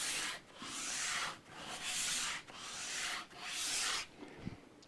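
Coarse 80 grit sandpaper scrubs the wooden body of an Epiphone Les Paul Junior guitar in four long, steady back-and-forth strokes with brief pauses between them, close and fairly loud, no voices.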